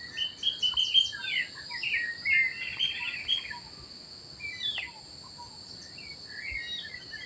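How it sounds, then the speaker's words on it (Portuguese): Chopi blackbird singing in the countryside, a series of bright whistled and warbled phrases coming in bursts over a constant high insect drone, moderately near. "Pássaro preto cantando."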